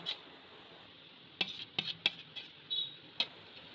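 Chhena being kneaded by hand with semolina, flour and a pinch of baking powder for rasmalai, with a steady soft mixing rustle and several sharp clinks of utensils on a plate, close by and with no talking.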